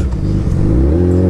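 A 2021 Suzuki Hayabusa fitted with a race exhaust revs close by, its deep engine note rising into a loud, rough roar over about a second.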